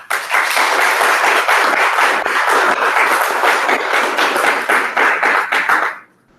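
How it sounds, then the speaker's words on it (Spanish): An audience applauds steadily for about six seconds, a dense, even wash of many hands clapping at full strength before it cuts off abruptly, with no talk over it. "al fondo escuchará un fuerte aplauso también"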